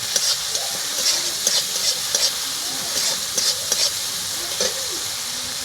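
Grated ginger and green chillies sizzle with softened tomato in a pan, a steady frying crackle with occasional stirring scrapes, close and continuous with no talking.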